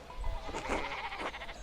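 Sheep bleating in the medieval game Pentiment, several overlapping wavering bleats in a short burst over low ambient rumble, fairly close and moderately loud with no talking.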